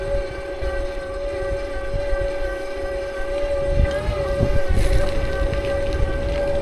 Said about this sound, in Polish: To chyba była jakaś kolejka wąskotorowa, tak mi się wydaje.